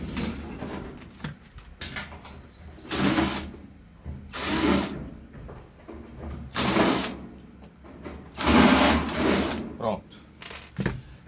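A power drill whirs in four or five short bursts as it backs screws out of the sheet-metal casing of an electric oven, separated by quieter clinks and handling sounds, with people talking faintly in the gaps.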